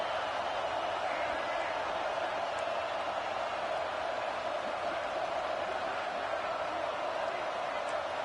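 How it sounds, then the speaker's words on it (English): A stadium crowd roars steadily in the NCAA 26 college football video game, a dense, continuous wash of broad noise that stays constant and loud throughout with no pauses. "this crowd trying to help keep them there."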